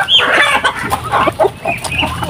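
Brahma hens on a small farm squabbling and clucking at close range, a busy run of agitated clucks and squawks that overlap each other.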